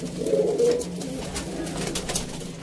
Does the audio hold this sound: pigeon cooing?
yes